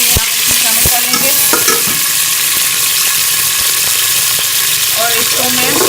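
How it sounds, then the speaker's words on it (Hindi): Large chopped onions frying in a pan until golden, a loud dense sizzle with spatula stirring and scraping clicks, close and continuous. "और इसको मैं गोल्डन होने तक फ्राई कर लूँगी।"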